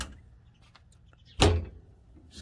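Metal doors on a brisket smoker swing open with one loud clank and a short scrape, close by, amid faint handling noises and no talk.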